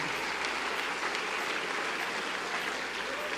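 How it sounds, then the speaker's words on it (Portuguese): Steady applause from a congregation at a church worship service, dense continuous clapping that holds at an even level throughout. "Pode aplaudir ao Senhor?"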